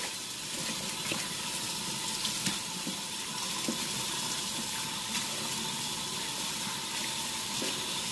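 Catfish is rinsed under a running tap, a steady close rush of water with faint splashes and handling noises throughout.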